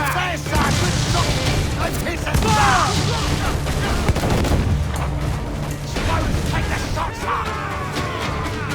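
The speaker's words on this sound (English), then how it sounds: "Cannon ready! Ready to fire!" Ship cannons firing during a naval battle in the video game Assassin's Creed 4: Black Flag, a dense, loud barrage of booms and crashes layered over battle noise and shouted voices throughout.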